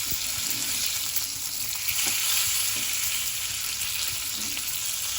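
Marinated bangda mackerel fries in a pan, Konkan style, with a continuous loud sizzle and a few light stirring taps throughout.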